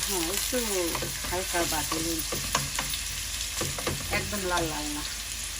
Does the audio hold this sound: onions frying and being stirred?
yes